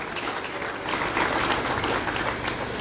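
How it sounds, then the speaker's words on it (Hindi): At a Kargil Vijay Divas gathering, a crowd gives a martyr's family a hearty round of applause, a thick, continuous clapping that swells slightly in the middle and carries on without speech. "जोरदार तालियों से स्वागत कीजिए इस शहीद परिवार का"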